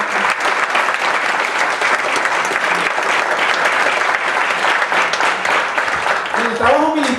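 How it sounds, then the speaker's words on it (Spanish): Loud, continuous applause from an audience honouring military veterans, thick clapping that holds steady throughout before a voice starts to speak over it near the end. "¿Qué tal si damos un fuerte aplauso a estas personas que dedicaron su vida?"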